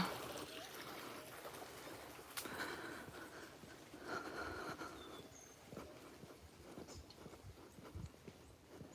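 A small waterfall trickles faintly along a walking trail, a soft continuous watery wash with scattered rustles and footsteps, distant and quiet throughout.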